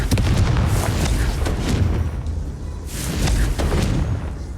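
A Confringo fire spell explodes in the video game Hogwarts Legacy, giving deep booming blasts with a bursting, crackling rumble, two loud close waves in quick succession.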